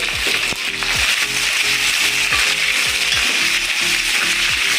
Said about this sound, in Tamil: நல்லா இது அப்படியே நல்லா பொரிஞ்சு வரதுக்கு எடுப்போம்.